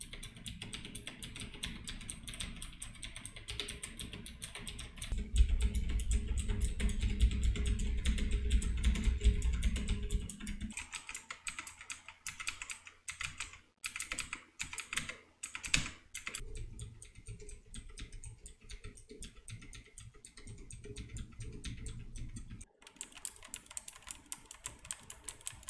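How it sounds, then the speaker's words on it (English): Rapid clattering keystrokes on a computer keyboard picked up by an XLR microphone, bursts of quick typing with brief pauses, close and fairly crisp. "here is the keyboard test so you can see how much sound this is picking up"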